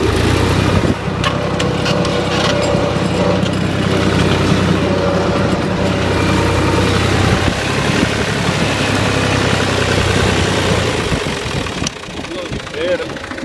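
A New Holland tractor engine runs steadily with a low, continuous drone close by, people talking over it, and the engine sound drops off near the end.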